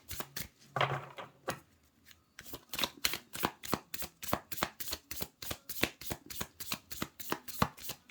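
A deck of tarot cards being shuffled close by in quick, rhythmic papery slaps and riffles, with a brief pause near the start before the steady shuffling resumes.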